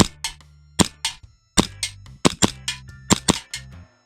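Hi Capa Star full-custom, fully upgraded airsoft pistol firing roughly a dozen sharp, loud shots close by, mostly in quick doubles at short speed-shooting range, with brief gaps between pairs and no talking.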